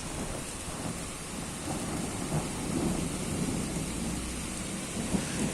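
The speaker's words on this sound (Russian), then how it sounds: "Только какой-то мелкий дождь. Гроза какая-то." A thunderstorm with light rain: a steady soft rain hiss over low, continuous rolling thunder rumble, with no voices.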